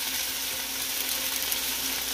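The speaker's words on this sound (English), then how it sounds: "So now we're just gonna drop in the beans." Beans land in a hot pan of stir-fried rice for arroz mampostiao, giving a loud, continuous close-up sizzle and frying crackle that holds steady with faint stirring scrapes and no talking.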